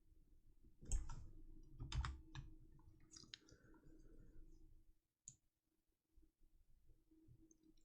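A computer mouse clicks in a few sharp, close bursts, scattered over several seconds among soft desk noise while 3D animation work is done, with no talk.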